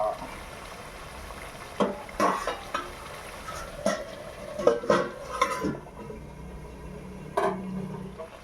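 Chicken curry meat is stirred in a pan as the spiced masala cooks down, giving repeated close scrapes and clatters of a spatula against the pan over a faint, soft sizzle.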